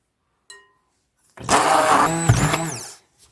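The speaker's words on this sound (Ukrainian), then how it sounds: "розбивати блендером погружним" An immersion blender whirs loudly for about a second and a half beating eggs and starch, its motor pitch wavering as it churns, preceded by a faint clink.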